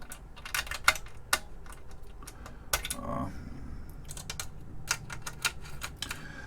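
A torque tool clicks while tightening nuts and washers onto switches on a replacement Altair 8800 front panel circuit board, with sharp irregular ticks and small metallic taps, quiet and close, with occasional talking.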